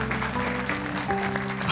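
A studio audience claps steadily through a stage show, the dense applause layered over sustained musical tones for under two seconds.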